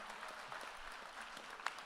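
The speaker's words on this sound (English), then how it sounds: "go ahead and clap" An audience at a Jewish California governor candidate forum claps for the event co-sponsors. The applause is faint and steady and sounds distant, lasting under two seconds.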